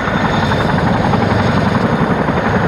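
A British Army helicopter runs up loud and close for takeoff, a dense, continuous roar of rotor and engine with a steady beating throb.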